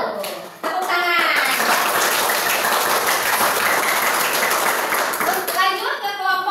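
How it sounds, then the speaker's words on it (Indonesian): Fourth-grade pupils in an elementary school classroom clap together loudly and steadily after a group presentation, with children's voices heard just before and after the applause. "Tepuk tangan."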